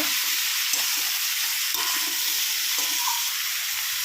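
Steady frying sizzle with soft stirring scrapes as data stalks, pumpkin, bori and jackfruit seeds are turned in a hot pan, a continuous close hiss with no talking.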